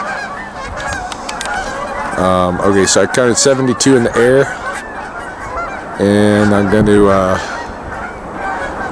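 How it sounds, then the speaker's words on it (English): A large flock of geese honks loudly in repeated clamorous bursts, with many overlapping calls nearby during a winter bird count outdoors in Lethbridge, while someone speaks between and over the calls. "Obviously, there's a lot of goose activity going on."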